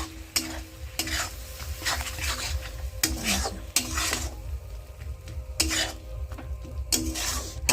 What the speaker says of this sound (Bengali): এই পেস্টটা দিয়ে ভালো করে একটু কষতে হবে।